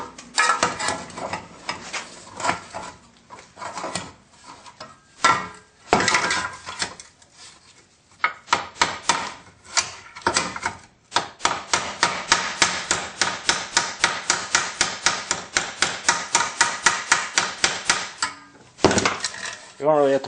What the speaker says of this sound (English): You don't really have to pound too hard.